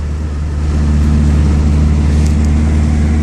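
A Dodge SRT4 car pulling hard in second gear, loud steady engine drone that rises into a strong sustained roar.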